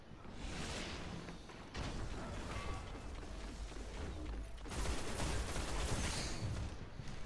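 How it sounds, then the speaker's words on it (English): Game combat in Destiny with a grenade explosion amid dense gunfire, a sustained loud broadband roar with sharp bursts near the start and a louder surge around five seconds, continuing to the end. "that was my grenade"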